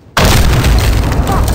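A door kicked in during a breach in the video game Medal of Honor Warfighter: a sudden heavy boom that sets in abruptly and leaves a loud, sustained rumbling wash behind it.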